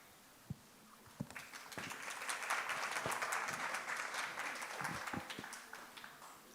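An audience at a human rights lecture breaks into clapping: a few isolated claps first, then a swell of steady applause that tapers off with scattered final claps.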